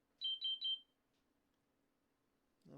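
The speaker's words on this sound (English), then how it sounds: "Of course, now my phone's going off." A mobile phone gives three quick high beeps in a row, clear and fairly close in an otherwise quiet room, followed by a brief voice at the end.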